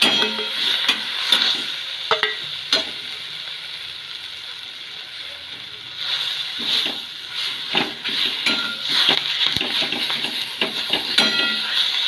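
Drumstick leaves being stir-fried with gram flour in a pan, a steady close sizzle with repeated scraping and clinking of a spatula against the pan, no talking.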